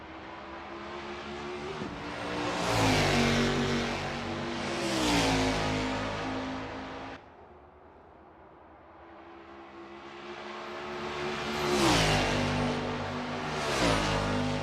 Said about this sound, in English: Narwhal is on his practice out lap